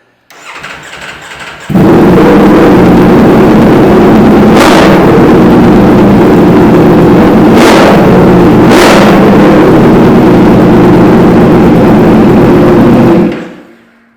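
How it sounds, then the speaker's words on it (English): A Ducati Panigale V4 with an SC Project aftermarket exhaust starts and idles loudly with a deep, throaty exhaust rumble, punctuated by a few quick revs before cutting off. "A great looking exhaust, much better sound than stock."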